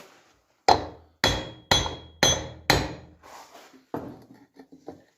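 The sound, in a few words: hammer tapping wheel bearing onto ring, Polski Fiat 125p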